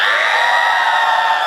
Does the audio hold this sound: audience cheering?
yes